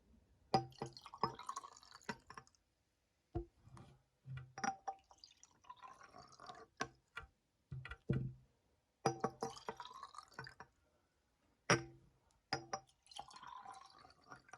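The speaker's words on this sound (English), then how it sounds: "I'll mix these together by pouring it, pouring these back and forth to see if we get any change." Liquids poured back and forth between containers, giving repeated bursts of splashing and trickling separated by short silences, close and fairly quiet, with faint drips and clinks of glass.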